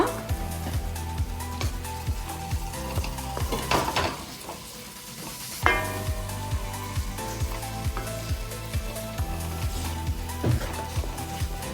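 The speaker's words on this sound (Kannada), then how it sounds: "ಇವಾಗ ಕರಿಬೇವು ಹಾಕೊಳ್ಳೋಣ" Curry leaves dropped into a hot pan for a Karnataka-style spicy mutton pepper dry, a crackling sizzle broken by sharp spatula scrapes and pot clatter, with a brief lull before the frying surges again, close and without voices.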